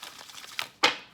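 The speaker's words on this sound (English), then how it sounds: "One more shuffle." Tarot cards being shuffled: a soft, faint riffle followed by one louder, crisp burst of card rustle, with nothing else around it.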